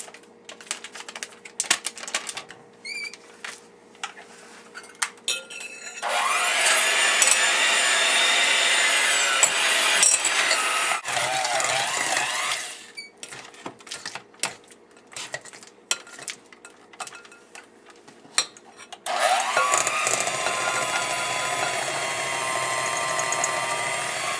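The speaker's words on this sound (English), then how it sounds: "we are going to cream the butter and the sugar together with our hand mixer" A hand mixer creams butter and sugar for rolled sugar cookie dough, giving two long, steady whirring runs separated by quieter clinks and handling noises.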